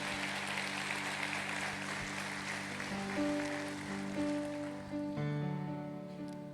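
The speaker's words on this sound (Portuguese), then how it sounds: "Quem crê, dê uma salva de palmas, Ele bem forte." A church congregation claps together during a Wednesday service, a steady wash of applause under sustained keyboard chords that keeps going for the whole stretch.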